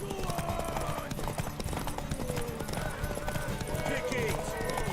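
Horse hooves clip-clop rapidly in The Witcher 3 during a horse race, a steady galloping rhythm mixed under game music and a character's talking.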